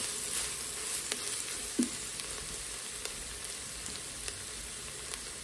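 Onion, celery and garlic sizzle steadily in a pressure cooker over a microflame, a continuous crackling fry with occasional soft scrapes from stirring, no voices.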